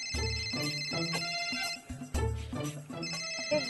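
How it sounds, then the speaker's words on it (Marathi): A mobile phone rings with an incoming call, its melodic ringtone repeating in clear, loud phrases with a brief dip partway through, heard alone indoors. "एक गॅरीचा फोन येतोय"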